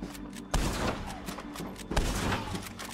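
Enemy gunfire in Red Dead Redemption 2, two sharp shots about a second and a half apart that ring out over a low rumbling game background, fairly loud and close.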